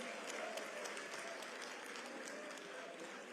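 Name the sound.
audience applauding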